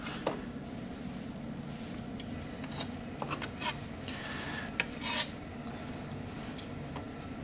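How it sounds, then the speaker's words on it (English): A knife saws through a block of vegan ham, making a steady close rasping scrape with a few sharper clicks over a low background hum. "I think it's easiest if you cut it in half first to make a nice flat surface."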